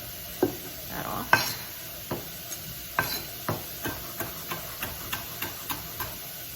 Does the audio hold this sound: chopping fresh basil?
yes